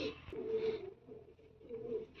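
A tiri female pigeon with red markings gives soft, low coos in two short bouts, faint and close, without any voices.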